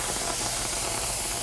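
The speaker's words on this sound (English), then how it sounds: "Listen to the sizzle." Scallops sizzle steadily in a hot pan, a continuous loud broadband hiss and crackle with no pauses and no talk.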